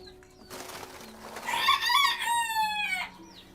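Chickens cluck and call up close, building into a loud, strained crowing-like cackle with a clear series of harmonic notes midway. The calls stand out over a quiet yard background and nobody talks.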